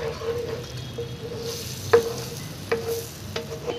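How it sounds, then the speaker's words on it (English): A pan of tadka with curry leaves sizzles steadily while a spoon stirs through it, with occasional sharp scrapes and knocks against the pan rising over the constant frying hiss. "I'm going to give everything a good mix. The tadka, the curry leaves and everything."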